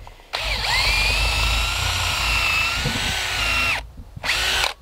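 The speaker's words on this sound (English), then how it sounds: "So I'm just going to pre-drill these where they're going to end up getting their fixing anyway." A power drill pre-drills timber for front porch framing at an off-grid earthbag workshop, whining loudly and steadily for about three seconds, stopping briefly, then spinning up again in a second short burst, with no talk.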